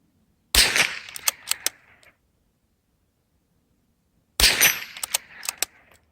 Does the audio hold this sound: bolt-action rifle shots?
yes